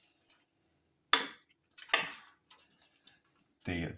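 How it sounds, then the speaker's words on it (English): Cooked ragu meat being pulled apart and shredded in a pan: sparse, sharp metallic scrapes and clinks of a utensil against the pan, a few distinct strikes spaced apart, with a voice at the end. "So we need to pull the meat to one side, and then we can shred it"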